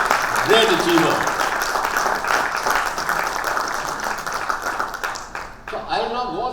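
Audience applause at a leadership talk in Bangalore honoring an Army veteran, a dense sustained wash of clapping filling most of the clip, with a voice speaking briefly over it near the start and again at the end as the clapping thins.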